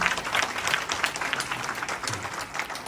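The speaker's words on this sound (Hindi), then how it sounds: "तो ताली बजाए आप जो पीछे बैठे हैं।" Guests at a Christian wedding clap together, a short, moderately loud patter of applause from a seated audience with a faint murmur of voices beneath.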